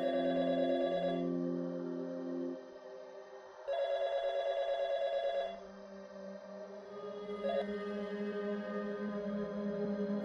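A landline telephone rings in repeated electronic bursts separated by short pauses, clear and steady, with no talking.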